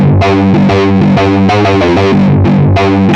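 A distorted synthesizer played through an amp simulator pedal plays a rhythmic chordal pattern with a gritty amp-like tone, wide and loud with no voices.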